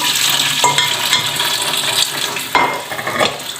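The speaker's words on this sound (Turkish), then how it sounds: "Mantımızın suyu güzelce süzülsün diye tekrar tencerenin üzerine süzgeçten aldım ben." Water pours and hisses steadily as boiled manti dumplings are drained through a colander over the pot, with occasional clinks and a sharper splash near the end.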